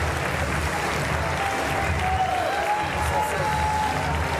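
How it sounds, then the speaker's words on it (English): A large arena crowd at the Paris 2024 Paralympic para powerlifting finals applauds a refugee Paralympic team member in steady, sustained clapping that fills the space, with an announcer's voice running over it. "A huge reception for the refugee Paralympic team"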